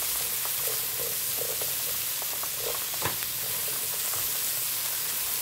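Ingredients with bay leaf sauté in a hot pan, giving a steady close sizzle with scattered pops and crackles and a faint stir, without speech.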